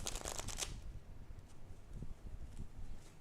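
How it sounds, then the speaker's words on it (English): Rapid crisp riffling of tarot cards being shuffled up close for under a second, then quiet rustling handling and a soft background hiss. "I'm going to shuffle it a little bit more."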